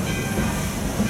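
Magic Kingdom park train rolling into Fantasyland Station, a steady low rumble of railcars with faint clatter and hiss, continuous and fairly close.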